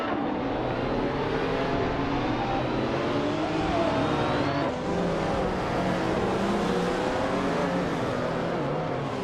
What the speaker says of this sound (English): the race just kicked off at Interlagos, and leading the pack is the Retro Supercars class